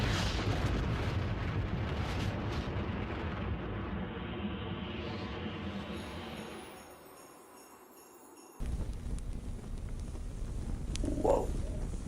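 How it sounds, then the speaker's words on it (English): A huge cartoon explosion marks a factory meltdown in a My Little Pony episode: a loud, sustained rumbling boom that slowly fades to near quiet, then crashes back in with renewed roaring debris noise. "the chaos of the factory's meltdown results in one of the single biggest booms in the series"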